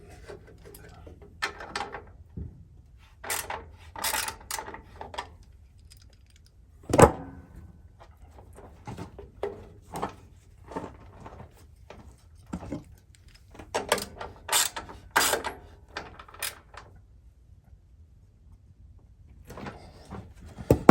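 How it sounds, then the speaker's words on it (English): Woodland Mills HM122 sawmill drive wheel turned by hand to seat a new drive belt: sparse, close knocks, creaks and rattles in bursts separated by quiet gaps. "I'm going to give it a couple spins just to help seat it in that drive wheel"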